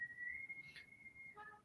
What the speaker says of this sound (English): There's somebody whistling right outside.